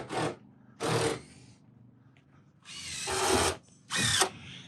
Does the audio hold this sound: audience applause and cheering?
no